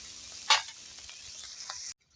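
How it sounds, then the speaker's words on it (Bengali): Bitter gourd frying in a pan with spices, a soft sizzle broken by a sharper crackle near the start and a few quieter pops before it cuts off to silence. "এবার আমি উচ্ছেগুলো ভেজে নিচ্ছি"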